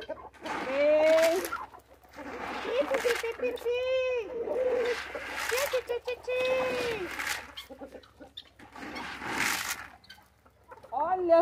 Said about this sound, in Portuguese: Olha lá as galinhas de baixo.